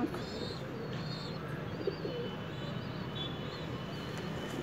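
A captured pigeon coos softly in a steady low murmur, with faint chirps from other birds in the background and no talk.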